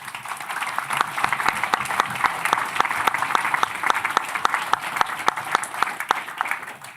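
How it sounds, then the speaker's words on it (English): Audience applause at an AI hackathon awards ceremony during EU AI Week, steady dense clapping sustained for about seven seconds with a few sharper individual claps standing out near the front. "So a big applause to you."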